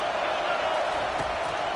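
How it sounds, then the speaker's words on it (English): A stadium crowd at a college football game between Wisconsin and Texas roars in a dense, sustained wash of cheering, loud and unbroken for the short stretch, with no clear commentary over it. "this crowd is tearing the lid off this place"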